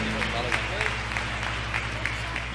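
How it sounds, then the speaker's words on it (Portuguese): Church congregation applauding the Lord at a Brazilian Pentecostal gathering, a steady crowd of clapping with rhythmic accents under a speaking voice, plus a sustained low hum. "Vamos aplaudir ao Senhor, aleluia."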